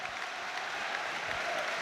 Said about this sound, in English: we're actually having a minute's applause here at the Parc des Princes